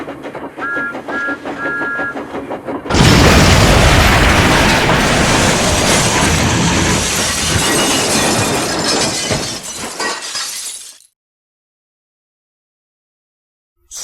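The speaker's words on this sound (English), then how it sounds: "he heard a train approaching" A train rushes in with a loud, sustained roaring rumble that swells suddenly and holds for several seconds, after faint repeated tones, then cuts off to silence.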